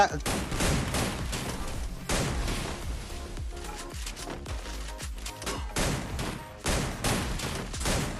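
Gunfire in the video game Free Fire: dense, rapid bursts of shots and booms rattling almost continuously over game sounds, with players talking excitedly throughout.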